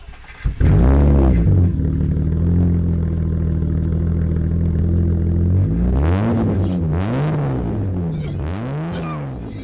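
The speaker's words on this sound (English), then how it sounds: "Right now I'm running a stock exhaust aside from having no muffler, and I'm pretty tired of the setup." A BMW E30 on its stock exhaust with the muffler removed starts up and idles with a loud, steady drone, then gives a few sharp throttle blips near the end.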